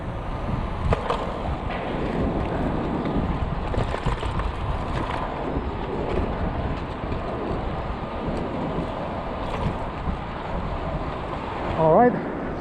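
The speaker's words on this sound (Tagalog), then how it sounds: "may hangin ng konti." Steady wind buffets the microphone along a waterfront during a bike ride, a continuous low rushing roar with gusts and a brief louder burst near the end.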